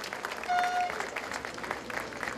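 Audience clapping at a provincial mayor's swearing-in ceremony in Huaura, moderately faint and continuous, with a brief tonal whistle early and a slight swell near the start.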